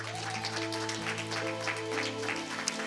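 A church congregation applauds and acclaims beneath sustained keyboard chords that shift pitch every second or so, the clapping a soft, even wash under the louder music, with no clear speech.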